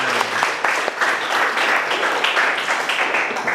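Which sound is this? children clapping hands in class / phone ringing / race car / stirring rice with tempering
children clapping hands in class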